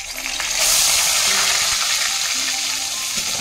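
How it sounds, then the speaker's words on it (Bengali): Ground onion paste fries in hot oil with cardamom and cinnamon for a fish dish, a loud steady hissing sizzle that swells after the first half second and carries on with faint stirring beneath. "তো বাটা পেঁয়াজটা এবার দিয়ে দেব।"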